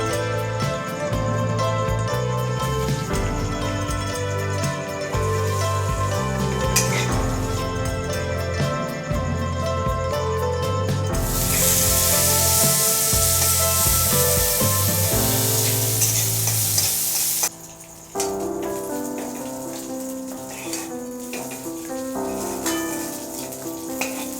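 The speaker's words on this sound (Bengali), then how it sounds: "কাজু ভালোভাবে ফ্রাই করে নেব" Cashews fried in oil for vegetable fried rice, a steady loud sizzle with stirring that runs throughout alongside continuous background music, with no one talking.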